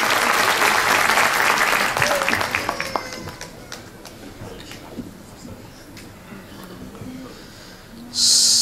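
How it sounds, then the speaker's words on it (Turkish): A hall audience at a Circassian music event in Turkey applauds to welcome a speaker. The loud clapping thins and fades within a few seconds into murmuring and scattered sounds, then a sudden loud burst returns at the end. "Sayın Yaşar Arslan Kaya Beyefendi'yi alkışlarla huzurlarınıza davet ediyorum."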